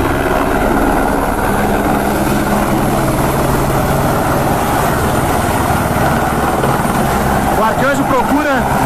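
The Arcanjo 03 rescue helicopter maneuvering to land at a disaster site in Presidente Getúlio, its loud, steady rotor and engine roar filling the scene close by, with faint voices mixed in.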